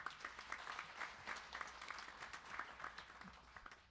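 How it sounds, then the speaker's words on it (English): Applause from an audience for a group of chanting students at a devotional Bhagwat Katha gathering, a sustained wash of many hands clapping at an even level, fairly distant, with no talk over it. "Give them a round of applause, please"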